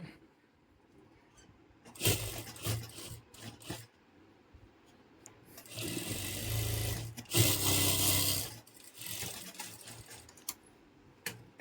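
A sewing machine stitches a patiala pajama in quiet bursts, with short runs near two seconds and a longer continuous whir from about six to eight seconds, separated by pauses and light handling sounds.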